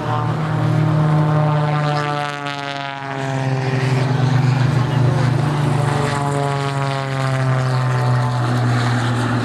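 Propeller aircraft of the Blades display team take off at an airshow, giving a loud, close, droning engine note with a strong pulsing beat that dips briefly and then swells again.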